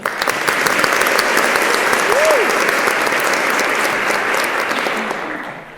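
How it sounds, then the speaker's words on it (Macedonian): Audience applause fills a comedy stand-up show in Kumanovo, a steady, dense clapping from a full room that swells slightly and holds for several seconds before tapering off. "Еден аплауз."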